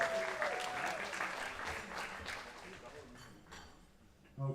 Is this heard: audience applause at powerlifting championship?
yes